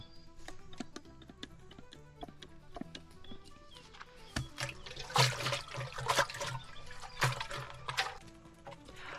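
Water splashes and trickles as a goat skin is washed with soap, with irregular drips and sloshing that swell into louder splashing bursts toward the end, close by and without talk.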